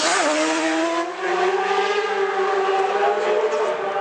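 Roy Richardson's distinctive orange race motorcycle screams past at the Isle of Man races, a loud high-pitched engine wail holding a steady tone with a slight dip in pitch, close and alone without talk.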